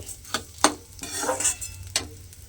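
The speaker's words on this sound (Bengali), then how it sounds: "ঘিয়ের মধ্যে গোবিন্দভোগ চালটা দিয়ে খুব ভালোভাবে আমি ভেজে নিয়েছি" Gobindobhog rice frying in ghee while a utensil stirs it against the pan: a low sizzle under scraping strokes and a few sharp clinks, close and fairly quiet, with no speech.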